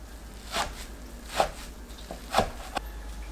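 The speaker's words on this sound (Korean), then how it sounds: "씻은 파래는 뭉쳐있는 부분을 풀어서 1cm 크기로 썰고 반대 방향은 2cm 간격으로 썰어줍니다." A knife cuts washed sea lettuce (parae) on a board, chopping it into small 1 cm pieces, with a few distinct, soft chopping thuds spaced about a second apart, close and fairly quiet.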